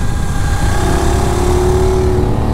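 A Benelli 752S motorcycle engine runs steadily on a test ride, its loud, smooth mid-pitched drone holding an even tone with a slight rise, mixed with road and wind noise.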